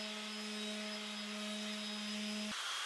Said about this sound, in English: I start with an orbital sander